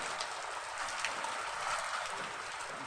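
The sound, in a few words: rain falling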